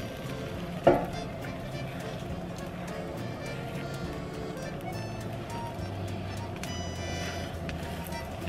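A French omelet sizzles in a non-stick pan, a steady, even frying hiss with a brief clatter near the start and faint voices underneath.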